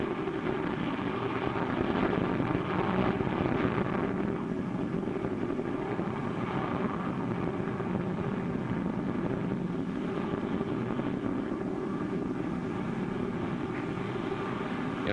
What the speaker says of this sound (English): has taken his Cadet Happy on a training flight in the vicinity of the planet Jupiter